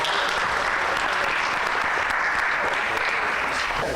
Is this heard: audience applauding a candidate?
yes